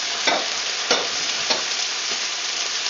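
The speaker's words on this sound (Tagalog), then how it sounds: "Add the string beans. Give it a stir." String beans are stirred into a simmering beef kare kare stew, giving a few soft scraping strokes of a spoon over a steady, low sizzle and bubbling.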